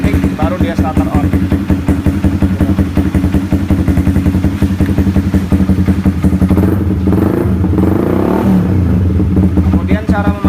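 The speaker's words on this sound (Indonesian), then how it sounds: "kita bisa menghidupkan mesin lewat remote" A motorcycle engine fitted with an MP one-way remote alarm, started remotely and running at a steady, loud, close idle with a rhythmic clattering pulse and brief revs near the end.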